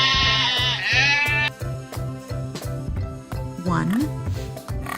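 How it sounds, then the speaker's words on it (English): Sheep bleating in a children's counting song about farm animals, with several wavering bleats rising over a steady, bouncy musical backing and rhythmic beat. "4 sheep."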